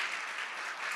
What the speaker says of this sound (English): I think we better have a quick round of applause for John before we go any further.